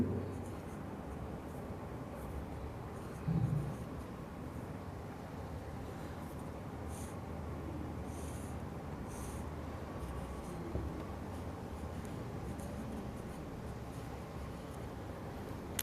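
Writing by hand while working a decimeter and meter conversion problem in a Hindi maths lesson, faint scratchy strokes under soft background noise, with one short louder bump partway through.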